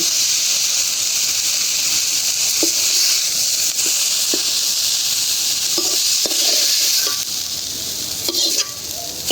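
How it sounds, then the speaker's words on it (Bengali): Steady frying sizzle, a dense hiss of hot oil throughout, with a few soft clinks of a utensil stirring the pan. "ভাজা হয়ে গেছে উঠাই"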